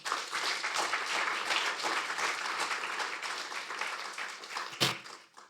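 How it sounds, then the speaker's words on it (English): An audience at a Franco-Indian law and business forum applauds steadily for several seconds, a dense wash of clapping that fades slightly near the end. "for the special address with a round of applause"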